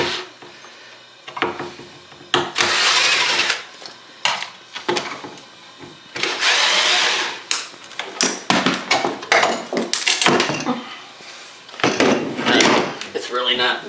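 Bathroom vanity cabinet doors being pried and ripped off, with loud irregular wooden bangs, scraping creaks and clattering knocks, close by and alone without talk.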